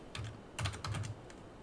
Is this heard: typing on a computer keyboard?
yes